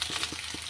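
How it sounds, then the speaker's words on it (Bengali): Potatoes fry in a pan in a village kitchen in Assam, a steady sizzle with a few soft stirring scrapes, close and alone without talk. "চলো আলু ভাজাটা আর একটু হবে"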